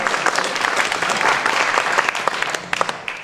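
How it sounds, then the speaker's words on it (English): Audience applause at a presentation event: a sustained round of clapping from a room of people, dense and steady, with sharper individual claps near the end and no speech. "yes, give a round of applause."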